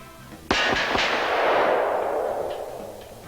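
A single loud gunshot from a pistol chambered in 460 Rowland, a sharp crack followed by quick echoes and a long rolling outdoor reverberation that fades over a few seconds.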